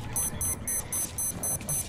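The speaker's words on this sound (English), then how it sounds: "Nobody hears that fucking beep." Repeated electronic beeps in the video game Metro Last Light Redux, about seven short high-pitched pulses at a steady quick rhythm, fairly faint over a low rumbling game background.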